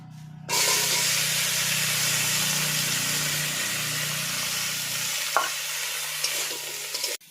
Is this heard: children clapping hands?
no